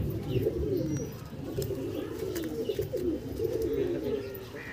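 A newly collected Andhra pigeon coos in soft, repeated low rolling phrases, fairly quiet and close, with faint background noise and no clear talk.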